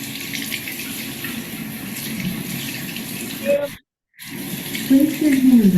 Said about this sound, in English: place your hands under the faucet to turn on the water